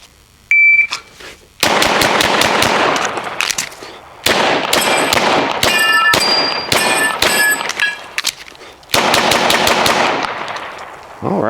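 Ruger RXM pistol fired rapidly at steel targets, long strings of sharp close gunshots with ringing metallic pings from hits, broken by short pauses between bursts.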